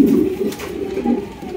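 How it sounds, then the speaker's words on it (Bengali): Racer pigeons, a breeding pair kept with two young, give low, throaty cooing that rolls continuously at close range, loud and clear with no speech over it. "দেখতে পাচ্ছেন একটা আফসান গিজের রেসার কবুতর আছে, সাথে কিন্তু দুইটা বাচ্চা আছে"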